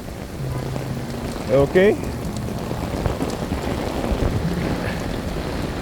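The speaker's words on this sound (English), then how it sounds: "It is so windy." Wind and rain from a storm roar steadily throughout as broadband noise, with rain pattering close by and gusts buffeting the microphone, while a person speaks briefly over it.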